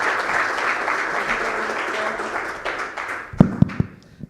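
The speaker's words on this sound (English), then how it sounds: "Please give him another round of applause" Conference audience applause at a fintech summit mainstage, a steady dense clapping wash that tapers off, ending in a few sharp isolated claps near the end.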